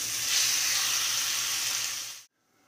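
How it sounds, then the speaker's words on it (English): Chicken pieces searing in hot oil, a steady bright sizzle close up that cuts off abruptly near the end. "We're going to place them in that hot oil and sear them for,"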